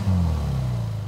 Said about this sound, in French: Ce que vous venez d'entendre, c'est la Ferrari de l'ex-joueur du Paris Saint-Germain,